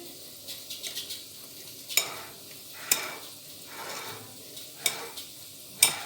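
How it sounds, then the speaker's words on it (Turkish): A salad is tossed and mixed in a bowl, with soft rhythmic stirring and rustling and sharp clicks from utensils striking the bowl about once a second, close and moderately quiet. "Bu salatamız da hazır. Karıştırayım."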